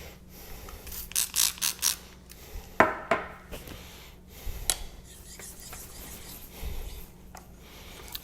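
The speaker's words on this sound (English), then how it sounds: "High angle for sharpening." A convex knife blade strokes across a Naniwa 3000-grit diamond whetstone at a high angle with light pressure, giving irregular raspy scrapes, a quick burst of short strokes early on, then sparser, fainter swipes.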